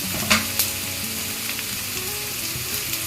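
Mustard seeds and urad dal sautéed in oil for upma, a steady close sizzle with a couple of sharp pops and light spoon scrapes near the start, and no talking.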